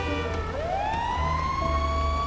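A fire engine siren in the GTA 5 video game wails steadily, its rising tone sweeping upward and holding loud and close under a rumbling engine, with no talking.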